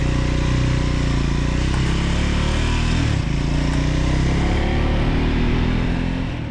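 A Triumph Scrambler 400X motorcycle engine drones steadily and loudly while riding, with constant low rumble and wind noise throughout, no talk.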